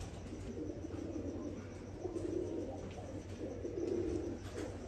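Pigeons coo softly and repeatedly in a loft, with low throaty calls rising in short bursts over a constant background hum, and no one speaking.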